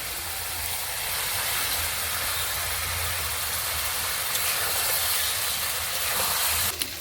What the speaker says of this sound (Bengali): এবারে আমি ভেজে রাখা বেগুনগুলো দিয়ে দেব।